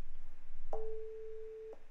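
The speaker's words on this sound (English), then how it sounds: "Let's see if we can hear our 1 second of 440 hertz." A computer-generated 440 Hz sine wave plays as a steady, pure, unwavering tone lasting about one second, alone over faint background hiss.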